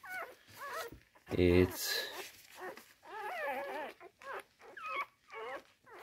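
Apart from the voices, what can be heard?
newborn puppies whimpering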